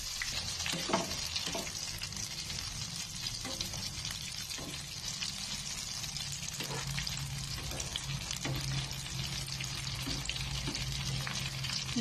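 Eggplant sizzles and crackles in hot cooking oil for Filipino tortang talong, a dense continuous frying hiss close by with occasional pops and soft stirring clunks throughout.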